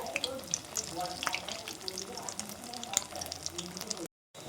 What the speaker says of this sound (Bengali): তিনটে কি চারটে করে ভেজে নেব। খুব হালকা আঁচে করতে হবে